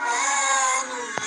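A single drawn-out, tonal meow from the video game The Baby in Yellow, followed by a brief click.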